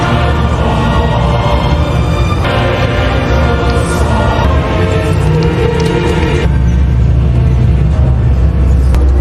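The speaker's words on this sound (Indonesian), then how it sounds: "Ia pun memutuskan untuk pulang menggunakan bus damri." A Damri city bus in the horror film Terrifier 3 rumbles steadily throughout, a loud, continuous low engine drone with shifting mechanical texture and no speech.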